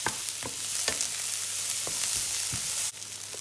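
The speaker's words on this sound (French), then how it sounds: "je vais faire revenir tous mes légumes d'abord dans un peu d'huile. Huile d'olive ou tournesol comme vous préférez" Vegetables with whole garlic cloves browning in olive or sunflower oil, a steady bright sizzle with several quick stirring clicks, close and without talk.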